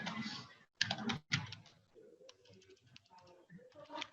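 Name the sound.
typing on a computer keyboard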